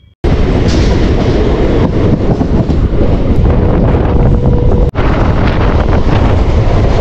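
A Bangaon local train on the Kolkata route runs steadily, a loud continuous rumble and rattle of wheels and carriages with heavy wind buffeting throughout and one sharp brief dip near the end.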